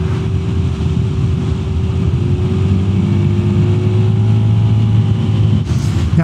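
Lambretta G350 scooter engine droning steadily while riding through tight curves, with loud wind rush over a continuous hum whose pitch shifts gently, no voices.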